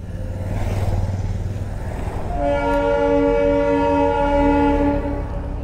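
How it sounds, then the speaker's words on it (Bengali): A toy train on the hill road to Rongtong sounds a long, loud, steady horn that rises over its close rumbling engine and holds for several seconds. "হর্নটা কিন্তু দারুণ।"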